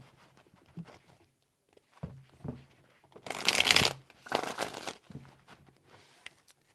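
Tarot cards are shuffled by hand in a few short bursts of riffling and slapping, close and fairly quiet, with soft handling taps in between and no speech.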